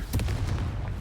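A fire-blast spell in the video game Hogwarts Legacy, heard as a loud, near booming burst with a rumbling low-end body and a few sharp crackling transients across about a second.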